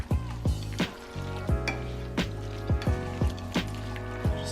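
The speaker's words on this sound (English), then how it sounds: "And then we're going to add the pasta to the sauce and all the vegetables. Just gonna start mixing it all together." Pasta, sauce and vegetables stirred together in a pan on the stove, a soft sizzle under repeated spoon scrapes and clanks against the pan in a loose, steady rhythm.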